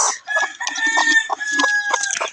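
A mother hen clucks and squawks up close in quick, agitated bursts while pecking, loud and continuous with no other sounds around it.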